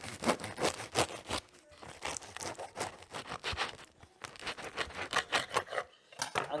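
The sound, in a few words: cutting a crusty 100% hydration sourdough loaf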